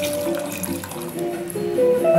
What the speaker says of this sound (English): And add the full coconut water.